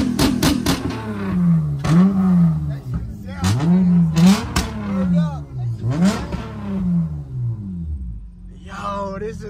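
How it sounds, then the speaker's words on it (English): An Acura TL car engine revving repeatedly at an outdoor car meet, four or five loud rising roars close by, with people talking between the revs. "They said no more revving."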